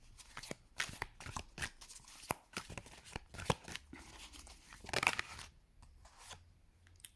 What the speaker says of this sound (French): On va aller faire une coupe avec ce tarot